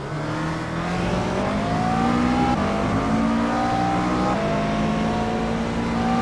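A GT race car in a simulator lapping Circuit de Spa-Francorchamps, its engine droning loud and steady with rising revs and brief shifts between gears, no talk over it.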